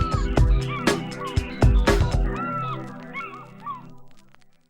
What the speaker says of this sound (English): the cry of the African fish eagle